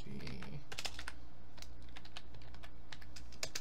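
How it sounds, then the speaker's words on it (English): Rapid clicking of fingers on a computer keyboard, typing in irregular bursts of keystrokes with a low background hum, close and fairly quiet. "I'm just typing in all caps."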